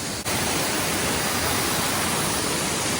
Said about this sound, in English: There's 2 waterfalls right here.